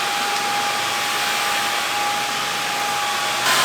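A Samsung Bespoke Jet cordless stick vacuum runs in normal suction mode, giving a steady airy whoosh with a thin high motor whine, constant and close, alone.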